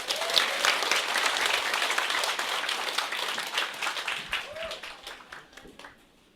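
Warm applause from an audience after an Atomy business lecture, a dense sustained round of clapping that gradually thins and tapers off into scattered claps at the end.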